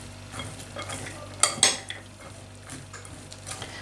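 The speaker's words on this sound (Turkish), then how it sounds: "birazcık da hakiki zeytinyağıyla şöyle şunları güzel bir harmanlayayım" Fava beans being stirred and blended with olive oil in a kitchen bowl, with a few sharp scrapes and clinks of a utensil against the dish amid soft, quiet mixing noise.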